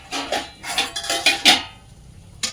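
Bowls and dishes clinking and clattering as they are handled, several close sharp knocks in quick succession, then a pause and one last clink.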